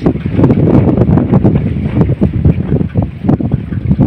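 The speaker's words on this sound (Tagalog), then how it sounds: "Lakas ng hangin." Strong wind buffeting the microphone outdoors at a tilapia fishpond, loud continuous low rumbling gusts that dominate throughout with no voices.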